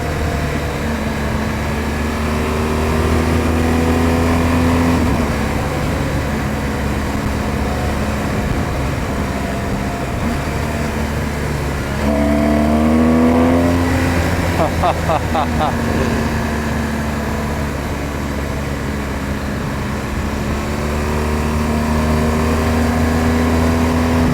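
A BMW R1200 GS motorcycle rides a Kentucky highway cut through the mountains. Its engine gives a loud, close, steady drone over wind rush, with the pitch climbing as it accelerates and a gear change partway through.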